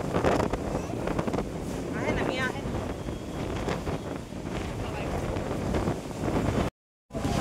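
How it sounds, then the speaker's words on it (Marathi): Strong wind roars across the microphone in a constant heavy rush at Alibag Beach, with people talking over it and a brief dropout near the end. "एवढा वारा बघितलं नाही"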